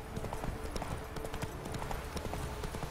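Roach the horse is ridden in The Witcher 3, her hooves beating a quick, steady clip-clop rhythm close by and moderately loud.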